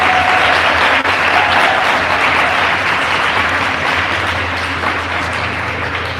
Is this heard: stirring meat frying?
no